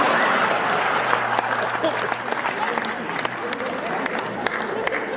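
An audience at a Hindi kavi sammelan poetry gathering breaks into sustained applause, a dense wash of clapping from a large crowd that carries on for several seconds with scattered cheers.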